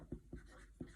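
Handwriting with a pen on paper: three soft, close scratching strokes in an uneven rhythm, quiet and alone.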